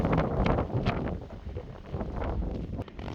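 Strong, cold winter wind gusts across a snowy mountain trail on Hwangaksan near Gimcheon, a steady broadband roar buffeting the microphone with swelling and easing bursts, no talk.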